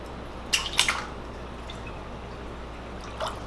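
Water splashes and drips in a large lure testing tank in a shop, with a couple of close splashy bursts early on, a quiet stretch, then another brief splash near the end.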